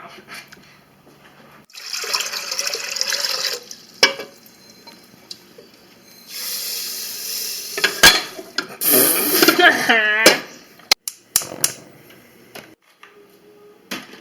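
Water and quinoa poured together into a cooking pot, with splashing, pouring and clattering pot sounds in bursts and a run of bubbly gurgles, close by and fairly loud.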